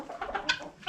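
Backyard chickens cluck softly in a few short, quiet bursts nearby, a brief cluster of hen calls.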